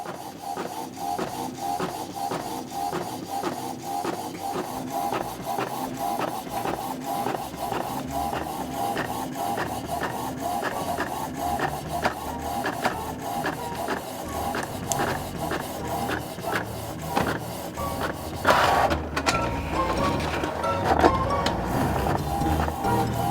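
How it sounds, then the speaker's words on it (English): Printer running continuously with a steady mechanical whir and rhythmic carriage passes, turning out large paper templates of table legs, close and sustained throughout with no talking. "when the printer is finally done"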